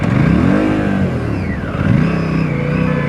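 An Aprilia RS 457 motorcycle revs hard at launch close by, its engine note climbing and dropping through a quick burst of acceleration.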